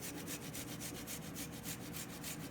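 Fresh ginger rubbed against a grater in quick, steady back-and-forth strokes, a close, faint rasping scrape with no talking.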